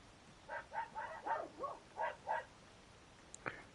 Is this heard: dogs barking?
yes